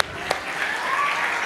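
Audience applauding the team at a youth magician's show in Bangladesh, a soft wash of clapping that builds gradually after a sharp knock near the start.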